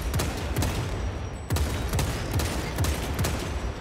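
Heavy rifle shots boom in quick succession from a sniper weapon in Warhammer 40K: Space Marine 2, loud and close amid dense battle noise, with no talk over them.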